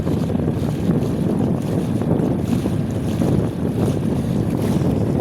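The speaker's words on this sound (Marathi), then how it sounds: "उफाण आलेलं आहे वाऱ्यामुळं समुद्रासारख्या मोठ्या मोठ्या लाटा मैयामध्ये तयार झाल्या आहेत" Strong wind buffets loudly and steadily while large waves on the stormy, rainy Narmada river at Sardar Sarovar slap against a boat, making a constant, heavy roar up close.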